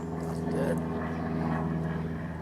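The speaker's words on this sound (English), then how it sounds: "Got an airplane flying over now." An airplane passes overhead with a low, steady droning engine rumble that fills the background while people talk nearby.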